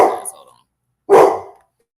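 A dog barks in two loud, close bursts separated by a short silence, the second sharp and rough, with no talk over it.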